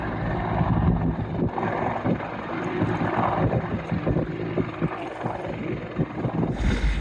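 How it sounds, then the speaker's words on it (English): Sailboat motoring under engine through swell and mist between Curtis Island and Great Keppel, a steady low engine drone mixed with wind buffeting and water wash, continuous and close, no talking. "just motoring around now to the north side of the island"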